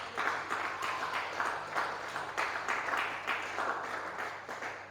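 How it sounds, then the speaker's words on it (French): A church congregation bursts into sustained applause, steady rhythmic clapping from many hands filling the room at close range with a few faint voices mixed in. "on acclame pour la gloire de Dieu"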